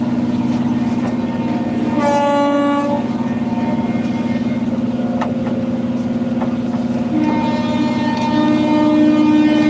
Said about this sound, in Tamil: எக்ஸ்பிரஸ் ட்ரெயின் போகும் பாருங்கள்.